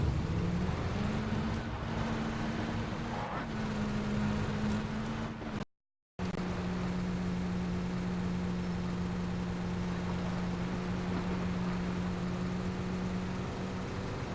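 A truck engine in the PUBG video game drones steadily while driving, its pitch shifting slightly as it runs, loud and continuous apart from a brief dropout.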